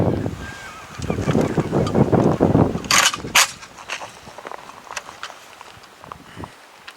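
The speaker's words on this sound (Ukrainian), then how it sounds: "Для наглядного прикладу постріли з глушником Hunter Pro Air і зі стандартним ДТК." A 5.45 rifle fires with a Hunter Pro Air suppressor and a standard muzzle brake: two sharp, loud cracks in quick succession, set against shuffling footsteps and handling noise outdoors.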